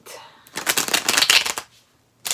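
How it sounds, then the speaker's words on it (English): A deck of tarot cards shuffled up close in one brisk burst of papery riffling lasting about a second, then quiet. "We're going to have one last shuffle."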